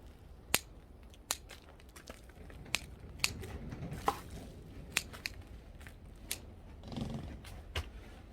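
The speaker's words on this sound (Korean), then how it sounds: "그런 경우는 이렇게 가위로 이렇게 정리를 해주는 것이 좋습니다" Scissors snipping protruding fig tree roots while repotting a potted fig, a series of sharp, quiet clicks spaced about a second apart over a low background rustle.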